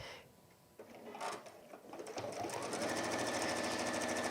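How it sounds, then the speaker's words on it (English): A sewing machine stitches down the folded edge of a gardener's kneeling cushion, starting after a few handling clicks and then running in a fast, steady, close mechanical whir. "tend to sew down the side with 2 folded edges first"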